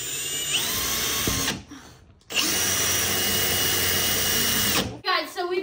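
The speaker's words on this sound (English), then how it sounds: "Okay, guys, I'm gonna drill this." Power drill boring into a large homemade Stanley-style cup, two loud whining bursts close by separated by a short pause, with a voice speaking around the drilling.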